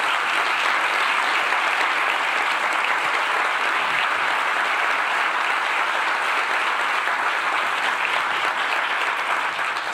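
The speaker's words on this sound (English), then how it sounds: "I'd like them to just stand up and so that we can give them a round of applause" An audience at a live festival event applauds the jury members, a dense, steady wall of clapping that carries on at full strength for about ten seconds without a break or any voices.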